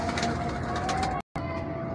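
Pigeons coo softly over a steady background hum, briefly cut by a moment of silence.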